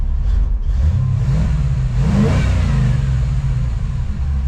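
A 1954 Chevrolet cabover truck engine, fresh from a carburetor swap, revs up loudly and steadily up close, its low rumble swelling mid-way before settling, with no talking over it.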